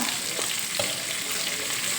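Steady, close sizzling of mackerel frying in a hot pan, a continuous crackling hiss with faint scrapes as the fish sticks to the pan, no voices.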